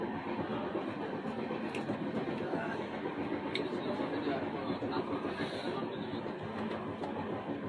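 An Indian express passenger train runs on rails at about 80 km/h, giving a steady, dense rumble and rattle of the carriage with faint clicks, heard from inside the coach.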